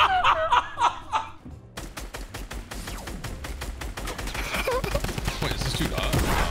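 Rapid bursts of gunfire from a new gun in Fortnite Battle Royale erupt after a voice at the start, then pop and crackle densely and loudly, with sharp shots repeating over a steady game background.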